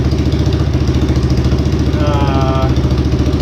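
A trike engine with a newly replaced carburetor idles nearby in a steady, loud, pulsing rhythm, and a voice talks over it briefly.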